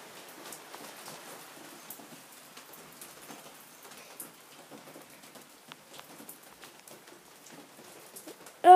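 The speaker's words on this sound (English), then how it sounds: "it's hailing really hard." Hard hail falling outdoors, a dense, faint patter of small scattered impacts on surfaces spread across the whole stretch, with a sharp louder knock at the very end and no talk.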